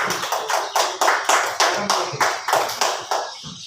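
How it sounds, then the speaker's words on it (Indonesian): A group of teachers or students at a school coaching session clap together in a steady, even rhythm, about three claps a second, close and fairly loud, with faint talk underneath. "Sekarang beri tepuk tangan untuk kelompok 1."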